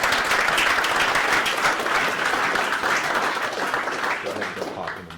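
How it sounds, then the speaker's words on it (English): An audience claps to welcome a speaker onto the stage at an agile leadership talk, with dense, steady applause filling the room for about five seconds before it slowly fades. "Let's please give him a round of"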